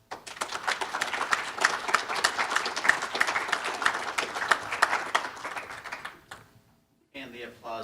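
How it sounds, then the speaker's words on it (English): An audience at a Rotary Club of Des Moines meeting applauds, a crisp, busy patter of many hands that holds steady, then fades out and gives way to someone speaking. "And the applause was very much for you."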